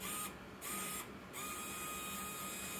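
Pro Line winch on a Traxxas TRX-4 1979 Bronco RC truck paying out slack, a faint, thin, continuous electric motor whine with two brief dips in pitch.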